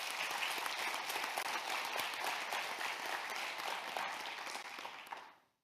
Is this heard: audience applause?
yes